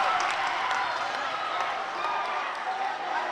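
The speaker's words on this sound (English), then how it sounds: "you can hear the crowd go crazy" A high school basketball crowd roars continuously at a free throw during a Crestview versus Niceville game, a dense wash of cheering and clapping with a voice talking over it.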